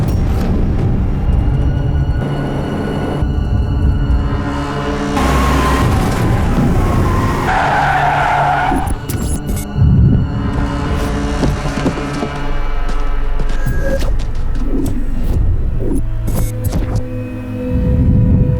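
A car arrives with a loud tire skid and squeal over a deep, steady engine rumble, part of a dramatic action scene with a heavy, continuous backdrop of music and effects and no clear talk.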